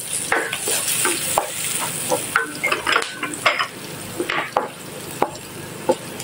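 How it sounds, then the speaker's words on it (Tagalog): Garlic and onion sauté in a pan, sizzling close up while a utensil stirs and scrapes in irregular clicks and taps throughout, with no voices. "So itutuloy lang natin, igigisa lang natin hanggang makita natin nag-translucent na yung onion."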